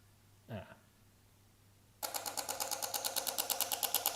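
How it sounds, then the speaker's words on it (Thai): A portable Bluetooth receipt printer starts printing after a brief chirp and a pause, giving a steady run of quick, evenly spaced mechanical pulses that stay close and moderately loud. "โปรแกรมก็จะพิมพ์ออกมาให้เลยนะครับ"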